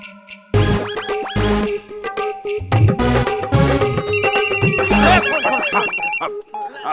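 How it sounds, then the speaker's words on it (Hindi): A telephone rings repeatedly in a domestic scene from a Hindi fantasy drama series, its bright electronic ring tones carrying over background music before someone answers. "और प्रबल भैया ने फोन उठाया।"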